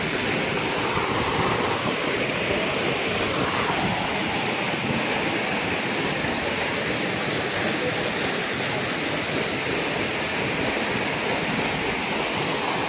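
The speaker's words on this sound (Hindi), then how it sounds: "देखें आप झरना देखें कितना कितना सुंदर है" A waterfall at the Kalyan Kedareshwar Mahadev temple in Sailana, Ratlam, roars as a loud, steady, broad rush of falling water that fills the whole stretch without pause, with no speech over it.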